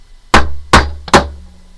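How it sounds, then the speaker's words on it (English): A brass hammer pounds jewellery wire into a hole, three sharp metallic strikes in quick succession, loud and close, each ringing briefly before the next. "I'm going to take my brass hammer and I'm going to pound it"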